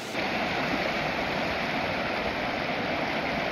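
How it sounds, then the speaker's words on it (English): Creek water rushes loudly and steadily at the Bear Creek crossing on the John Muir Trail, a close, continuous broadband roar of the stream heard alone without any voices. "Bear Creek water crossing. It's actually worse than any of the other ones we've been crossing."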